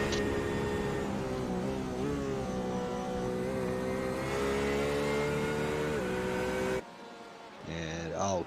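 A Porsche race car engine climbing a hill circuit, held at a high steady drone with rising pitch as it accelerates, then a sharp drop and renewed revving near the end, with commentary voices underneath.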